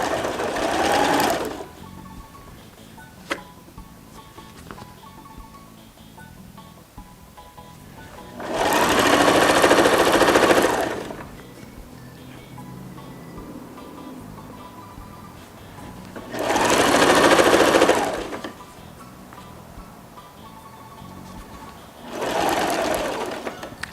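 Sewing machine stitching a welt pocket with a flap into a garment, running in three loud bursts of a few seconds each with quiet pauses between, plus a short burst at the start and another at the end.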